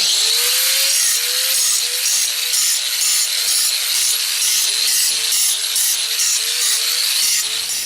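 An angle grinder working across a masonry foundation during repair, a loud, continuous abrasive whine that never stops, with rhythmic rising and dipping pitch as the disc is pushed back and forth against the stone.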